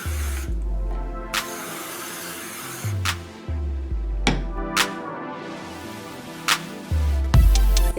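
Hairspray goes onto damp curls in several short, sharp hissing bursts, spaced a second or more apart, over a low steady background hum.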